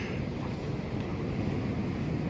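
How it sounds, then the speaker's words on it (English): Sea waves wash continuously onto a Norfolk beach at night, a dense, steady roar with heavy wind rumble on the microphone, rough and loud with no talk. "Violent waves tonight."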